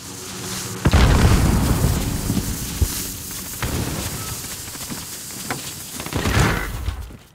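Cruise missile strike in Call of Duty Modern Warfare (2019) multiplayer, a heavy explosion followed by rumbling debris and several further booms and bursts over the next seconds, loud and close.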